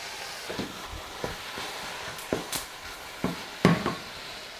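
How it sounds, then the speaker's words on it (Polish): Garlic sizzles as it goes into spinach frying in a pan for spanakotiropitakia, a steady hiss punctuated by several short clinks and scrapes of stirring, close and moderately quiet. "Teraz dodaję czosnek."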